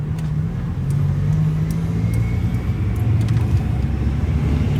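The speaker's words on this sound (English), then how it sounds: "clutch in, go into first, and then slowly release your clutch" A manual-transmission car pulls away in first gear on a New York street, its engine a steady low rumble that swells slightly as the clutch is released, loud and close with no voices over it.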